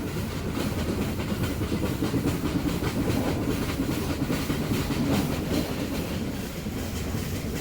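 The Ooty toy train climbing the hills after Kallar on the Mettupalayam to Ooty line: a steady, rumbling rattle of railway carriages with a rhythmic clickety-clack and a faint hiss, heard from on board.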